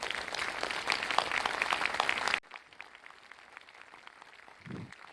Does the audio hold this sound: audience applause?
yes